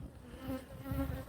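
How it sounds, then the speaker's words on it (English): European honeybees buzzing as they stream out of a hole in a tree, a steady close drone with a sustained hum that swells and fades slightly, no voices over it. "There are bees coming out of here."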